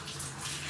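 Hot water gushes from a tap in a steady, close, full rush, with no breaks or talking over it.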